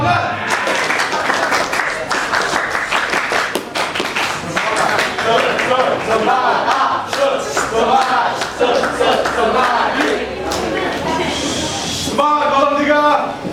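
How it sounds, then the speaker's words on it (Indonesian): Crowd clapping at a school student council candidate debate, a dense stretch of loud hand claps in a hall with voices mixed in, ending in a quick burst of rhythmic claps. "3 kali tepuk semangat."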